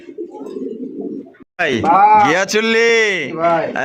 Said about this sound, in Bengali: একদম বিগ সাইজের, প্রায় একদম মিনি কিং এর সমান এক জোড়া গিয়াচুল্লি কবুতর